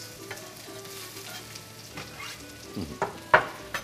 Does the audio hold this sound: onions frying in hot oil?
yes